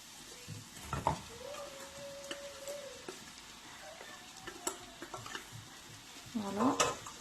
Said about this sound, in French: je vais venir mettre mes haricots verts